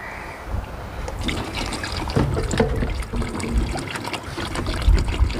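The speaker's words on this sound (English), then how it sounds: "we're going to take our Marvel Mystery Oil and mix the same amount of that in there. So I'll just pour that into here." Marvel Mystery Oil pours into a container for mixing into an old 1967 Ford F250 engine, a soft steady glugging trickle close by with faint handling noises.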